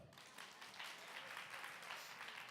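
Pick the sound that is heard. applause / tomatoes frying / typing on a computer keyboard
applause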